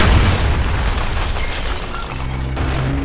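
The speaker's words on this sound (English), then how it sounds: "Throwing grenade!" Grenade explosion in a search-and-destroy round of a video game: a loud, deep boom that rumbles and fades, followed by quieter in-game mechanical tones.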